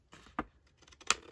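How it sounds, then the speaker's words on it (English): Scissors trim an edge off the material while making a paperclip pen holder, giving two crisp, close snips about a second apart in an otherwise quiet room. "Then I'm going to cut this edge off."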